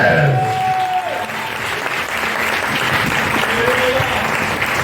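Church congregation applauding at a French-language service, a dense steady wash of clapping filling the whole stretch, loud and close, with a few faint voices mixed in.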